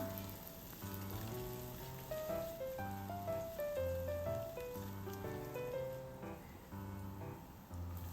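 Ginger and green chillies sauté in a pan while oats upma is being cooked. A soft, steady sizzle runs throughout beneath louder melodic background music.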